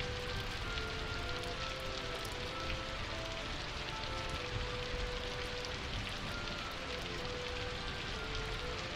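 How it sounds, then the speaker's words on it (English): Heavy rain in a video game, a dense, steady patter and hiss of downpour on surfaces, constant and even throughout with faint tonal game sounds underneath. "It is pissing rain."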